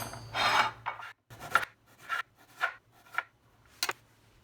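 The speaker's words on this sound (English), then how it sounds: "you're just going to cut this into slices. Same thing goes for the cucumber." Kitchen knife slicing vegetables and cucumber on a cutting board, a series of separate rasping cuts spaced about half a second apart, close and clear with no talking.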